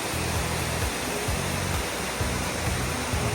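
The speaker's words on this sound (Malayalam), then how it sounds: "ഇവിടെ ഇങ്ങനെ വെള്ളം ഇതുവഴി ഇങ്ങനെ പോവാണ് കേട്ടോ." Water of the Muthirapuzha, a tributary of the Periyar near Munnar, rushes past in a steady, loud broadband roar, with low rumbling pulses underneath and no voices.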